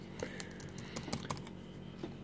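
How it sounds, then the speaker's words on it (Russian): Laptop keyboard keys pressed one after another in an irregular typing rhythm, with crisp close clicks and a faint crunching quality, no voices. "вот нажимаете кнопки, если все ок, ничего не липнет, ничего не заклинивает, нету вот таких хрустов"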